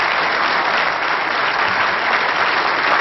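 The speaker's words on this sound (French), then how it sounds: "Un grand applaudissement pour Chaïk." Steady, loud applause from a crowd at a pétanque masters event in Madagascar, welcoming a player onstage, with dense continuous clapping filling the whole stretch at an even level.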